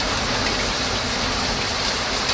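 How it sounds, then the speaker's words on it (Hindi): Heavy rain pours steadily on a cartoon village, a dense, even hiss of falling water with no pauses and no voices. "अरे वाह, गांव में कितना बारिश हो रहा है।"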